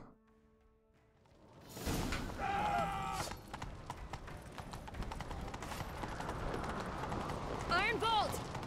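Rhythmic hoofbeats of a galloping horse in The Witcher 3: Wild Hunt thud under background talk, joined by a whinny and whooshing effects.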